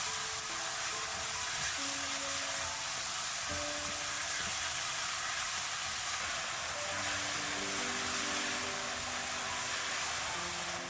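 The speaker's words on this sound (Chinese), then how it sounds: "炒香之后再将西红柿倒进来，翻炒均匀，炒出西红柿里边的汤汁。" Tomatoes stir-frying in hot oil with chopped scallion and garlic give a loud, steady sizzle that runs unbroken throughout, with a faint low hum underneath.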